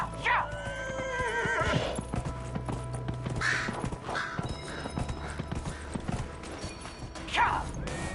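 A horse in a PS4 video game race neighs several times, with shrill whinnies rising above the rhythmic clip-clop of hooves, fairly close and under light game background sounds.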